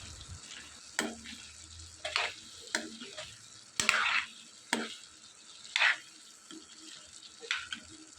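Chicken fries in a pan with ginger garlic paste, giving a steady low sizzle broken by repeated scraping stirs of a spatula against the pan, about eight distinct strokes at an uneven rhythm, close and moderately loud.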